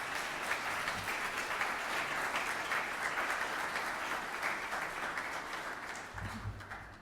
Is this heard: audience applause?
yes